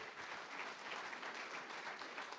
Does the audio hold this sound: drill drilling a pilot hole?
no